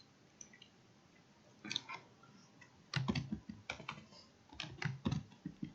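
Questions are typed on a computer keyboard, with irregular close key clicks that start sparse and then come in quicker bursts, no talking.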